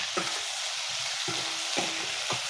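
Ginger pieces and chopped tomato sautéing in a pan on a high flame for instant butter chicken, a steady hiss of sizzling broken by several sharp scraping stirs, close and clear with no talk.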